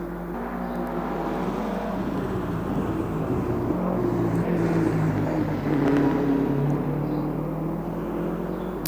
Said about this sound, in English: I think this car is running a V10 or a V8.